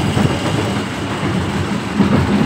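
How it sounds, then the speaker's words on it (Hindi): An amusement park ride train at Nicco Park in Kolkata runs on its rails, giving a loud, continuous rumbling roar with faint rhythmic clatter heard from on board. "ये ट्रेन रोटेट हो रही है हमारी।"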